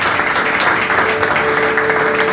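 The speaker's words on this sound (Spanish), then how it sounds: "Aplaude al Señor," A church congregation applauding during a service, a dense, continuous wash of clapping with a faint sustained tone underneath, steady and fairly loud throughout.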